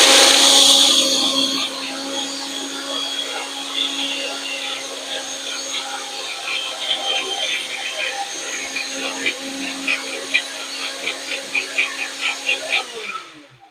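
A blender pulses a spinach smoothie, its motor whirring steadily at first and then breaking into short rhythmic bursts toward the end, loud and close.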